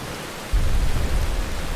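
Rain in Skyrim SE, a dense steady hiss of falling rain that jumps louder after a moment with a low rumbling undertone, no voices.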